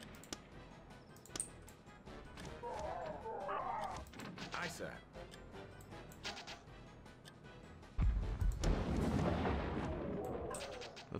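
Cannon fire and battle noise in the Warhammer: Dark Omen video game, with scattered gunfire cracks building to a loud, rumbling artillery burst near the end, mixed with game sounds and voices.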